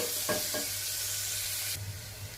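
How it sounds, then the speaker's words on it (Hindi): Onions fry in a pan with a close, steady sizzle, a couple of brief stirring scrapes early on, and the hiss swelling louder near the end. "अब इसको अच्छी तरह से भून लीजिए"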